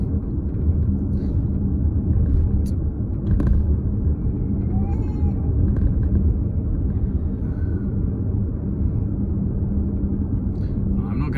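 Suzuki Across plug-in hybrid SUV rolling over gravel, a steady low rumble of tyres and cabin noise heard from inside, with a few faint knocks and creaks along the way.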